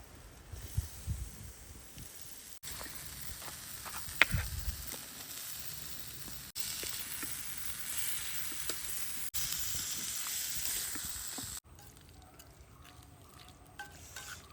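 Pickle with iron bilimbi (irumban puli) bubbling and sizzling steadily in a pan as it comes to a boil, a continuous close frying hiss with soft pops and occasional stirring, no talk.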